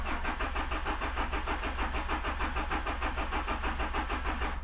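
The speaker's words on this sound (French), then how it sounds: "Et allez, quelques petits coups de démarreur." The starter motor cranks a rebuilt 200-horsepower HDI diesel engine in a fast, even chugging rhythm. It is loud and close, running steadily for several seconds without firing.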